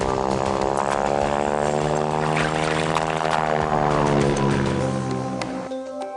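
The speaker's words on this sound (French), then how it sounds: "Canadair." The propeller engines of a Canadair firefighting aircraft drone loudly and steadily, their pitch bending as the plane passes close by, then fading out near the end with no voices.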